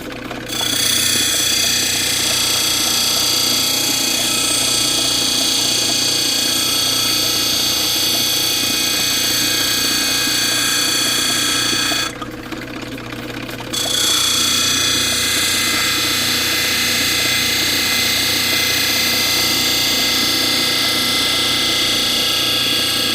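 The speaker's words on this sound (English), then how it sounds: "We're going to start cutting that bevel down. All the way around." A power tool cutting a bevel into wonder stone, a loud continuous grinding whine with a steady motor drone that breaks off briefly midway and then resumes, close.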